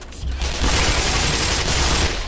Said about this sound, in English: Let's get this machine gun.